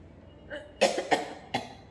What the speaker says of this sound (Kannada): ಇದು ನೋಡಿ ಕೆಮ್ಮು ಒಂದು ಈ ಕಫ ಒಂದು ಕಾಟ ಕೊಡುತ್ತೆ